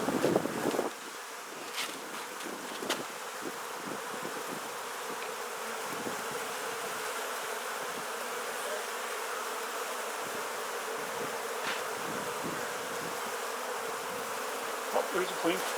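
Honey bees buzz during an inspection of a Langstroth beehive: a dense, steady drone from many bees close to the microphone, continuous throughout, with a few faint knocks and some wind noise.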